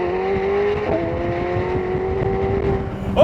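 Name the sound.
McLaren 750S twin-turbo V8 engine accelerating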